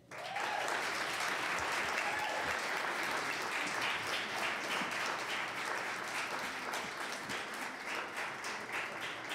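Applause from an audience at a community event at Laney College, steady dense clapping that stays loud and sustained throughout with no talk over it.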